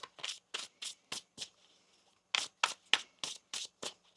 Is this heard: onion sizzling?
no